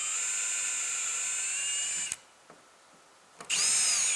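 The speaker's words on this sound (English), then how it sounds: "All I need to do is just drill out a couple of these rivets" A power drill whines loudly and steadily while drilling out rivets on a snowmobile, stops for over a second, then starts up again at full speed.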